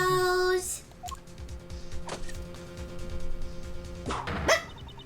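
Dog barking in the video game Ace Attorney Investigations 2: Prosecutor's Gambit, a few sharp barks over game music, following a sustained electronic tone at the start, fairly close and loud.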